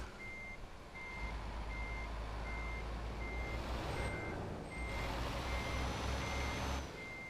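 Truck reversing beeps in Japan Truck Simulator: a steady, evenly spaced series of loud electronic beeps over a low engine rumble, with a brief hiss partway through.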